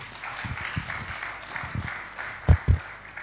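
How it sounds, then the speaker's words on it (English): Conference audience at a cybersecurity event claps for an arriving speaker: a faint, steady patter of distant applause, with two louder thumps near the end. "Please keep clapping until he gets here"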